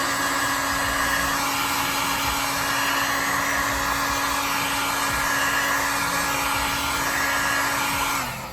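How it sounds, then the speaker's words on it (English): A cheap Harbor Freight heat gun blows loud and steady with a constant whining hum while heating a piston part for a 2005 Honda Odyssey, then cuts off at the end, with no talk. "So I have my heat gun here. I bought this at Harbor Freight."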